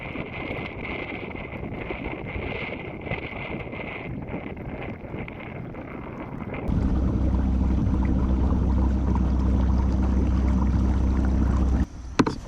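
Watersnake T24 electric trolling motor converted to 18 volts, running at full speed: a steady, loud hum and whine that cuts in partway through over earlier wind and water noise, then stops abruptly near the end.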